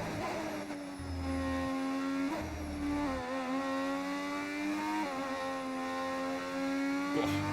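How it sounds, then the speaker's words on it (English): Original V6 Formula 1 engine of a retro Benetton car in the F1 25 racing game at Belgium, screaming loudly and continuously at high revs, with its pitch dropping and climbing again through several quick gear shifts. "How'd you get the car to sound so good? We're using the original V6 engines."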